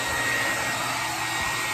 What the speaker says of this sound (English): Mom blow drying my hair.